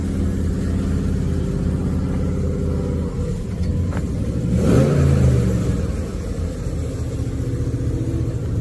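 A Lincoln convertible's engine rumbles steadily at a car auction, swelling into a louder rev near the middle before settling back to a low idle.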